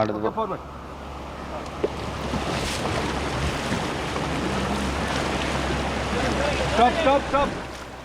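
Churning river rapids during rafting at Dubare roar loudly and continuously, with wind buffeting the microphone and faint voices and shouts partly buried in the rush of water.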